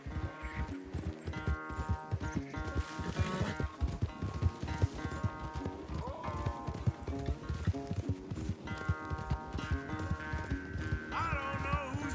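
Horses gallop hard in a race in the Western game Red Dead Redemption 2, a rapid steady clip-clop of hooves driving throughout, with music and occasional voices over it.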